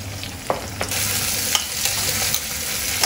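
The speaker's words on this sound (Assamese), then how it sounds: "এইখিনি এতিয়া অকণমান দেৰি ফ্ৰাই কৰি ল'ম।" Onion, carrot, capsicum and tomato fry in a pan, a steady close sizzle broken by several scraping stirs of the spatula, with no talking.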